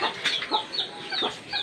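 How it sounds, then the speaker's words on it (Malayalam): Chickens cluck in short, close bursts over a brief moment, several calls following one another with no speech. "നമ്മൾ കോഴിക്കളെ വിടാൻ പോവാണ്."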